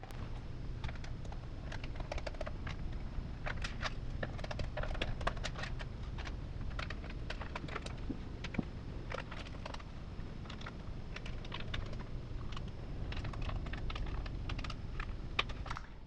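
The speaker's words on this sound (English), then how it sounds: "let's go ahead and unscrew all these screws real quick" A screwdriver works out the screws on the underside of a Chromebook laptop: a long, dense run of small, close ticking and clicking sounds, irregular and unbroken over a low steady background hum.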